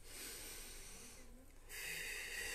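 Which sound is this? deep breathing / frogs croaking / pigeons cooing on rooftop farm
deep breathing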